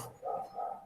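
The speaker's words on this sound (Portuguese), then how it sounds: "o cachorro tá latindo" A dog gives two short, muffled barks in quick succession, faint and somewhat distant, with a soft whimpering quality.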